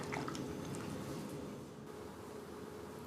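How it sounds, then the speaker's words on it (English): A razor blade, caked with shaving cream from shaving a client's face, is dipped and rinsed in a water basin, giving soft, faint sloshing and dripping that continues steadily and eases off slightly midway. "dip the blade into the water basin to rinse it"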